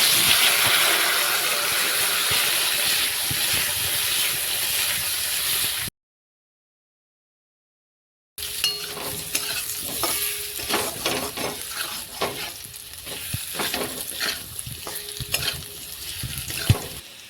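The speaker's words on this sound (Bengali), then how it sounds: "ওই তেলে আলুগুলোকে ভেজে নিচ্ছি।" Potatoes frying in hot oil give a steady, loud sizzle with occasional stirring clatter, broken by a brief silent gap before the crackling resumes more intensely; no voices.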